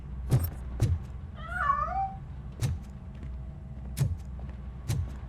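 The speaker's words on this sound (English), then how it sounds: "That cat must be hiding inside." A cat meows in a video game set in RoboCop: Rogue City, a short rising-and-falling call in the middle of the clip, set among periodic thumping footsteps and a steady low background hum.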